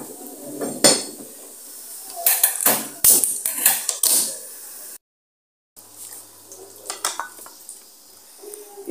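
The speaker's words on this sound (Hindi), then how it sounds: "अब मैं इधर तवा रख दी है, अब मैं उसके लिए फुलके बना लूँ दो।" Phulka flatbread is made on a tawa griddle in a home kitchen, with close scraping, clattering and faint sizzling in irregular bursts, a brief silent gap, then quieter handling sounds.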